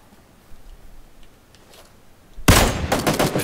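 A sudden burst of gunfire in the battle-royale shooter PUBG, loud and close, erupting after a quiet stretch of faint ticking ambience.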